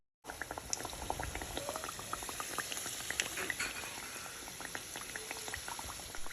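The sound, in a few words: samosas frying in bubbling oil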